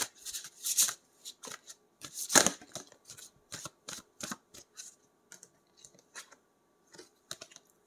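Oracle cards being shuffled for a five-card reading, a run of quick papery riffles and snaps with one louder burst early on, close and alone with no talking.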